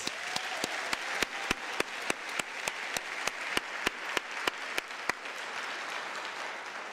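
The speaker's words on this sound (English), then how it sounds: "Can we give our graduates and diplomats a round of applause?" A graduation ceremony audience applauds graduates with sustained, dense clapping that fills the space evenly and holds steady at a moderate distance before fading slightly at the end.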